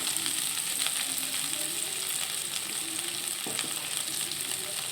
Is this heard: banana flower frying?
yes